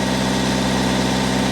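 Steady, loud mechanical engine drone and vibration on a test rig for a Chieftain tank's TN12 gearbox, holding a constant pitch close to the microphone with no voices.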